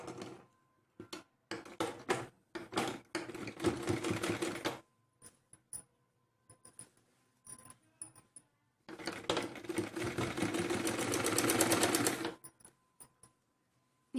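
A sewing machine stitches along the frilled neckline of a blouse, with short stuttering bursts early on and then a long steady run of close, rattling stitching, and quiet gaps between.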